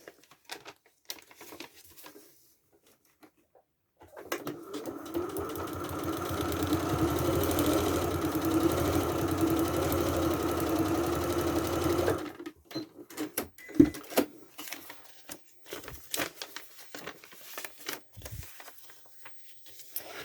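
A sewing machine stitches fabric in one continuous run of about eight seconds, a close, rapid mechanical patter, with quiet handling clicks and rustles before and after.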